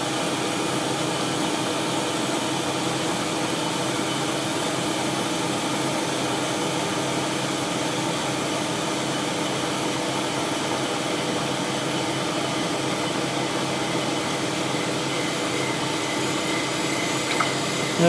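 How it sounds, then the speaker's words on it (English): Surface grinder making a spark-out pass with heavy flood coolant, giving a steady, loud broadband hiss and whir that holds constant throughout with no talking. "I'm now doing a spark out pass. As you can see, there's a lot more flood coolant going on."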